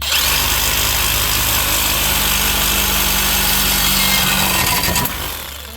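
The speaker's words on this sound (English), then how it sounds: "We're going to start cutting this off right about here." A Sawzall reciprocating saw cuts through a car exhaust pipe, a loud, continuous buzzing motor with a harsh grinding rasp, running steadily before winding down at the end.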